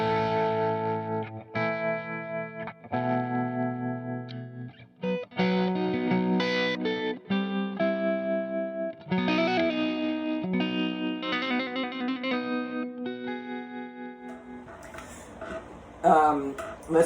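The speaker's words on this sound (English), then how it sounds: "And notice the tremolo is still on." Electric guitar played through a Suhr Hombre amplifier with its tremolo effect on. Chords and single notes pulse with a wavering throb, clean to lightly driven, moderately loud and up close, with scrappy noise near the end.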